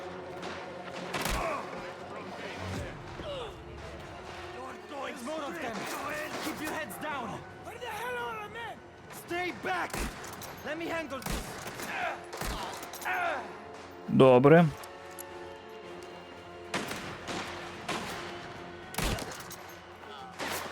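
Bursts of gunfire in the video game Mafia: The Old Country crack out repeatedly under steady talking voices, with scattered single shots and a louder cluster of blasts midway.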